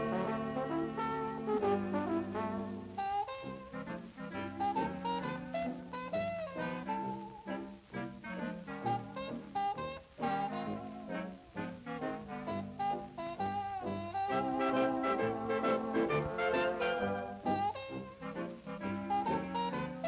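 A 1937 hit record plays on its own as full, continuous dance-band music with sustained melodic lines at moderate volume and no talking over it.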